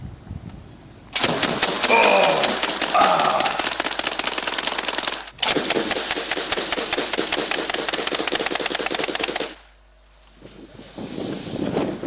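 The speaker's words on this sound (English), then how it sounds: "Now you're going to get to see 2 AA-12s." Two AA-12 automatic shotguns fire in long, rapid, loud bursts of blasts that run for several seconds each, with a brief gap between them and a quieter lull at the end.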